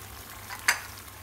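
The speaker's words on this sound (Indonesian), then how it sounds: "Dimasak sampai matang bawang putih dan bawang bombay." Garlic and onion sizzle gently in a pan while being stirred, a low, faint frying hiss broken by one brief, sharper scrape of the utensil.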